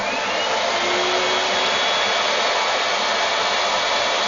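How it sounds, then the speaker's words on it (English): A large vacuum cleaner runs at its lowest power setting, giving a steady, loud, continuous whoosh with an even high hiss that holds without change from start to finish. "I have my big vacuum cleaner. It's to the lowest setting"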